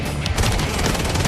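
Bursts of gunfire in a shooting video game crackle densely and loudly, with overlapping shots packed into a short, continuous barrage.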